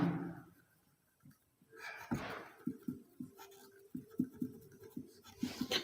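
Pen writing on paper during a Class 10 maths probability lesson, a quiet series of short scratchy strokes and taps that grows busier toward the end, alone with no talk.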